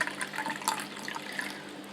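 Water from a tap or pitcher pours into a drinking glass, a continuous close splashing and gurgling trickle lasting a couple of seconds with no speech.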